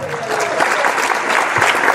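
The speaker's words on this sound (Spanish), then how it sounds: "Den un aplauso al Señor." Church congregation clapping in praise during a worship service, a dense, loud, continuous wash of applause filling the whole moment with no talk over it.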